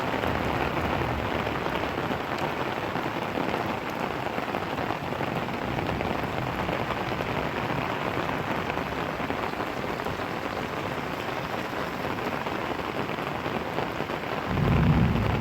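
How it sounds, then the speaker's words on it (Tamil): Heavy rain pours steadily onto a road in the Tirunelveli district, a dense, even roar of falling water throughout with a low rumble at the end. "உங்களுக்கு தெரியும் மழை எவ்வளோ ஸ்பீடாக பெய்யுதுன்னு தெரியும்"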